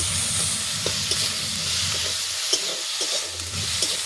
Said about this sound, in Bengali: ভালো করে নেড়ে চেড়ে নেবো। টমাটোটা যেতে গলে যায় তার জন্য আমি একটু নুন দিয়ে দিচ্ছি।